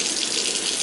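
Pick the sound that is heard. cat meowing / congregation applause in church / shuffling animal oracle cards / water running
water running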